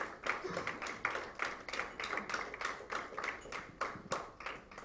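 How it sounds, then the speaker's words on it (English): A small audience at a dance research congress claps in steady, rapid rhythm, the sound light and somewhat distant, with no voices over it. "A big round of applause for every one of them."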